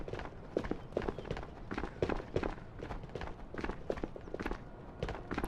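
Rapid footsteps in an online shooter video game, a quick regular run of crisp near steps carrying on throughout, heard alone without talk.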